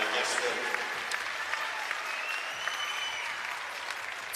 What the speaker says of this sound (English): Good crowd by the Coleman Coliseum fans for her.